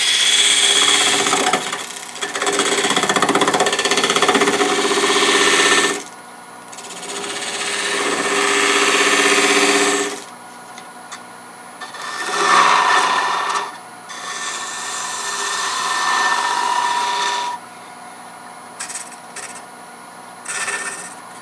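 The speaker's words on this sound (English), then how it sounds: "So I'm using a spindle gouge." A spindle gouge cuts Norfolk Island pine spinning on a wood lathe, giving loud rasping, scraping passes of a few seconds each, separated by quieter gaps where the lathe hums alone.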